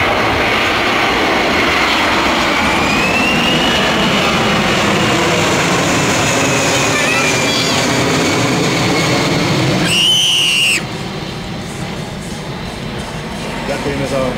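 A US Air Force C-17 Globemaster jet flies a display at an air show, its broad engine roar loud and sweeping for about ten seconds before cutting to a quieter background, with a commentator talking over it.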